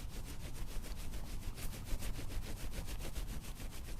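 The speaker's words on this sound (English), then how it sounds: "Let's slowly start rubbing the palms together" Palms rubbing together during an outdoor yoga session, a quiet rhythmic swishing friction in quick even strokes, close and faint, with no talking.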